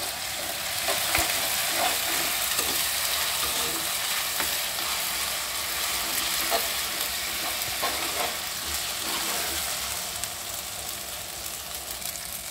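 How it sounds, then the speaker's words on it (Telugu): Ginger garlic paste frying in a pan for a pulao and chicken meal, giving a dense, continuous close sizzle with scattered small crackles and faint stirring scrapes, easing slightly toward the end. "దీంట్లో 1 స్పూను కొద్దిగా వేసి ఇది బాగా ఫ్రై చేయాలండి"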